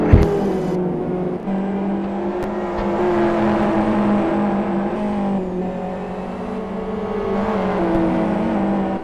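Super GT race cars, including GT300 class machines, racing on a circuit, engines droning and whining steadily at high revs as cars pass, loud and continuous with no voices.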